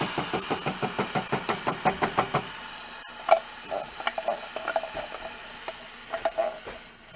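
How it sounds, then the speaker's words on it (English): Tomato sauce hitting a hot pan for homemade pizza sauce: a rapid run of sharp, regular stirring or scraping strokes first, then a softer, broken sizzle with scattered pops and clinks, close by with no talking. "then add my tomato sauce"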